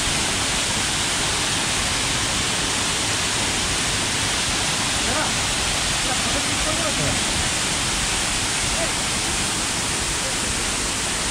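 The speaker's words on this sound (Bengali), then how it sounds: "খুব সুন্দর একটা আর ভালো স্রোত আছে এখনও পর্যন্ত, জলের ভালো আছে, জল ভালো বেশি আছে।" River current rushing at Bamni Falls on Ajodhya Hill in Purulia, a loud, constant broadband roar of moving water filling the scene without any break.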